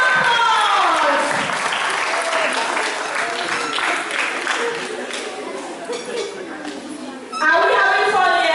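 An audience claps for schoolchildren at a school declamation contest, a loud, sustained round of applause with cheering voices and children chattering over it, then amplified speech from a presenter near the end.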